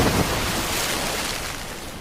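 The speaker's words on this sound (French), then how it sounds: "magnifique chute d'eau!" Waterfall in an animated episode of Beyblade Metal Masters: a steady, loud broadband rush of falling water that holds without a break for the whole stretch, easing slightly toward the end, with no voices over it.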